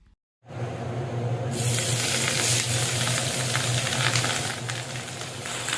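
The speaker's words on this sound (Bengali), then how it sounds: "ফ্রাই প্যানে পরিমাণ মতো সরিষার তেল গরম করে একটা একটা করে মাছের টুকরো দিয়ে দিচ্ছি" Rohu fish pieces hit hot mustard oil in a frying pan and set off a loud, steady sizzle. It starts abruptly after a brief silence and swells to a fuller, hissing crackle that holds to the end.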